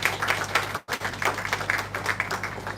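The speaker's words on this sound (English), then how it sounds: "So that deserves a big round of applause to the minister and his team." Audience applause at a Jamaican Ministry of Health and Wellness event, a loose round of hand clapping from a modest crowd, briefly cut by a dropout before it resumes and carries on steadily.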